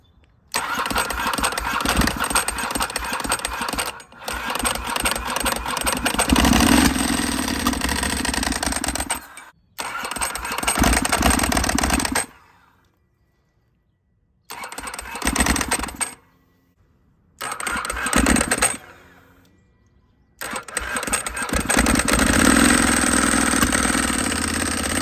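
A Ducati 996 motorcycle engine cranks and fires on its first start, running loud and close in several bursts of rough idling and revving, cut by short silent gaps between attempts.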